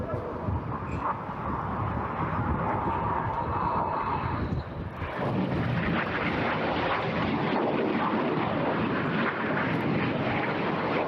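Red Arrows jets roar through an airshow display at Eastbourne, a loud continuous jet engine rush that swells and surges as the synchro pair turn hard toward the centre, with a brief dip before the noise builds again.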